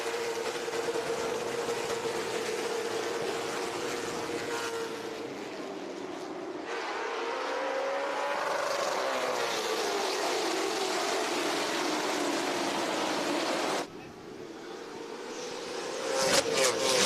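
Race cars roar off at the green flag of the Puryear Tank Lines 225 at Ace Speedway, a steady loud engine drone swelling and shifting in pitch as the field passes, continuing for most of the stretch before briefly dropping.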